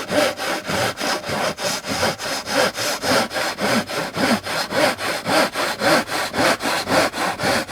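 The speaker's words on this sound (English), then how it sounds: "in terms of cutting balsa, it's got coarse teeth on it." A coarse-toothed saw cutting through balsa wood for a model warplane wing, with loud, close, rhythmic back-and-forth strokes at a steady quick pace.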